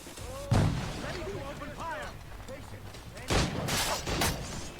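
A grenade goes off in Assassin's Creed Rogue, a loud broadband blast near the start followed by a second burst of noisy rumble later, with game music and voices continuing underneath.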